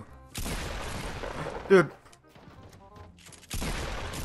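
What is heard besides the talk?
gunshots in Fortnite video game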